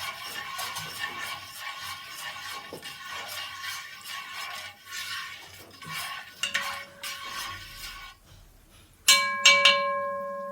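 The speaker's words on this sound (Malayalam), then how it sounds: "ഇങ്ങനെ നന്നായി ഇളക്കി കൊടുക്കുക." A spoon stirs ada payasam with jaggery in a pan, giving repeated scraping, sticky swishes in an uneven rhythm, ending in a few bright metallic clinks and a ringing tap against the pan.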